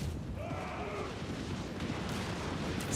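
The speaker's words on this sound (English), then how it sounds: "Mortar!" Rumbling mortar artillery fire on a Total War: Warhammer II battlefield, a continuous low roar of distant blasts with faint shouting underneath.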